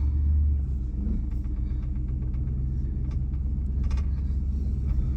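Truck rolling along on a fresh drive shaft U-joint replacement, a steady low road rumble with faint creaks, continuous and close from inside the cab, with no talking.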